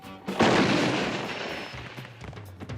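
A cartoon cannon fires a human bullet, a single loud booming blast with a burst of noise that slowly trails off over a couple of seconds.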